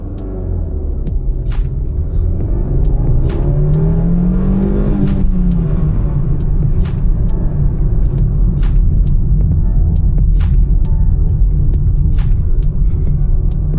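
A 12-year-old Honda City running on CNG accelerates, its engine rumbling close and loud with a rising, revving note midway, then settling into a steady drone.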